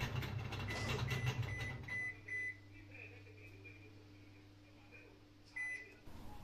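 Several short electronic error beeps ring out from a Toshiba washing machine that won't spin, over a low mechanical hum, spaced irregularly with quiet stretches between them.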